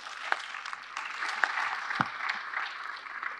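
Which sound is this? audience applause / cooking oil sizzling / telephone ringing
audience applause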